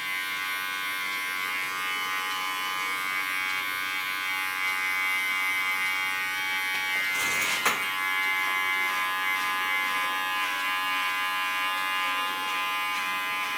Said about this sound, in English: just in the neckline, I do with clipper